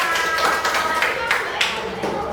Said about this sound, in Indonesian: Ya, tepuk tangan untuk kelompok kedua.